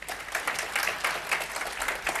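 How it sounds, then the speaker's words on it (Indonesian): Applause from a church congregation during a sermon, a steady wash of many hands clapping at moderate volume, with no voices over it. "Tepuk tangan."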